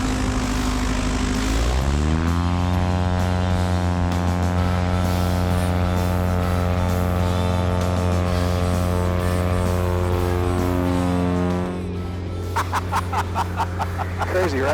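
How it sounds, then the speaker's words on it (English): A Cessna light aircraft's propeller engine revs up loudly on the runway at departure, its droning tone climbing and holding steady as it takes off, close and dominant, with a rattle near the end. "Chester County traffic, Cessna 3224 Alpha, departing runway 29er."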